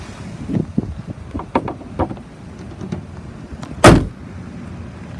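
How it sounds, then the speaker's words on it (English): A 2006 Ford E-350 XL 12-passenger van engine idles with a steady low rumble, broken by a single sharp loud thump partway through. "Motor sounds real good."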